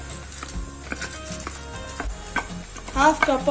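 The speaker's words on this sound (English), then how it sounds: "We are going to dry roast until the raw smell goes." Dal and raw rice dry roasting in a pan for sweet pongal, with a steady close dry sizzle and scraping stirs from a spoon, growing busier toward the end.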